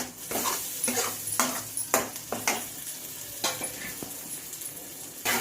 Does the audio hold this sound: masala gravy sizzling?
yes